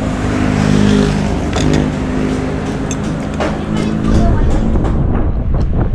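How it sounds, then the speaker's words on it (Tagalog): Strong wind roars and buffets against the microphone in a loud, continuous rush, with an engine-like rumble running underneath. "Sarap ng hangin, naririnig nyo."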